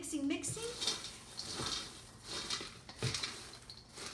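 Cheesy popcorn tossed in a bowl over a kitchen counter gives scattered clatters and dish-like knocks, fairly faint and irregular, with a voice talking now and then.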